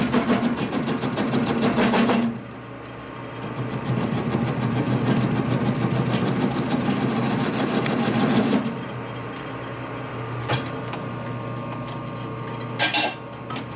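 Metal chips being cut on a machine tool during a 1979 Harley-Davidson 93ci Shovelhead motor rebuild, a steady mechanical whir that runs loud, drops briefly, then continues before fading, with a few sharp clanks near the end.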